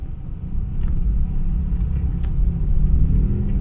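Highway traffic in the Philippines gives a loud, steady rumble of passing vehicles and engines, continuous and close, with no talking.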